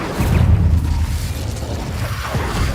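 Incendio fire spell cast in Hogwarts Legacy, a dense, rumbling burst of fiery whooshing that stays loud and steady for nearly three seconds with deep low-end weight.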